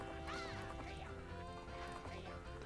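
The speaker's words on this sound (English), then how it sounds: "He's being harassed by seagulls." Seagulls in Zelda: Majora's Mask, in the Great Bay area, give repeated squawking cries layered over steady in-game music and ambience.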